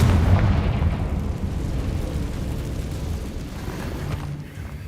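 A Confringo fire spell explodes in Hogwarts Legacy with a heavy boom, then a sustained rumbling roar that slowly fades and dips at the end, loud and close with no voices.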